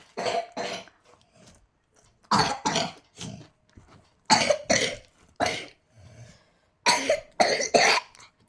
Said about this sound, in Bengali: কত কাশছে দেখো বন্ধুরা